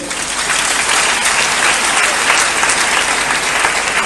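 An audience at a Christian church gathering in Kinshasa applauds, a dense, loud, continuous clapping from a large crowd that holds steady throughout.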